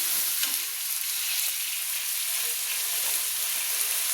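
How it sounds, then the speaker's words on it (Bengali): Chopped onions with salt frying in a pan, browning for a chicken and cauliflower curry, give a continuous, even hiss of sizzling oil, close and loud, with no voices. "এবার আমি পেঁয়াজগুলোকে লাল লাল করে আমি ভেজে নেব।"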